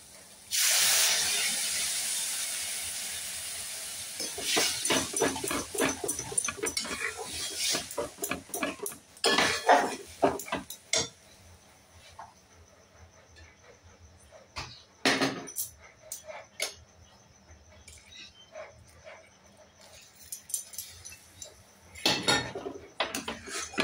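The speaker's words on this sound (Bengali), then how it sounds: "এবার আমি যে পেস্ট করে এনেছিলাম পালকটা, এই যে এটা আমি ঢেলে দেবো" A spinach paste is poured into a hot pan for palak paneer, bursting into a loud steamy hiss that fades into scattered sizzling, scraping and clinks of a spoon against the pan.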